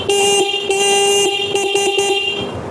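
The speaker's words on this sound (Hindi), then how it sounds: "ये बैक हॉर्न मैं आपको चेक करके दिखा देता हूँ।" An e-rickshaw back horn wired directly to a 12 volt battery blares as one loud, steady electric honk. It holds for nearly three seconds with small wavers, close up and alone.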